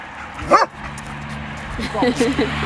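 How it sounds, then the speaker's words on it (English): A dog gives a sharp close bark, then a few yipping, whimpery barks follow, while a person speaks nearby. "Dobry, kochany pies."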